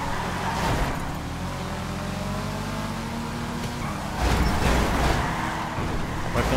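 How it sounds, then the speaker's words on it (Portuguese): A Toyota Supra accelerates in the rainy GTA V video game, its engine drone rising and holding steady with a louder surge near the end, running continuously at close range. "acelera esse carro aí"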